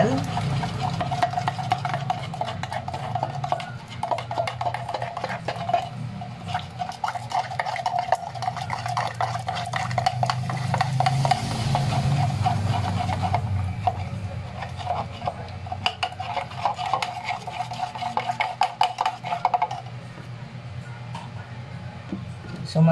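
A spoon stirs a strawberry matcha milk tea mixture made with hot water in a cup, giving a steady clinking and swirling sound that runs continuously throughout at close range.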